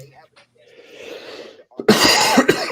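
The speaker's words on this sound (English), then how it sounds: "Sorry for coughing at you guys" Someone coughs several times up close, a harsh burst of hacks near the end, after a stretch of quiet murmuring.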